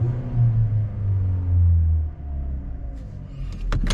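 A 2013 Hyundai Elantra engine idles with a low, steady rumble close by, with a few faint clicks near the end.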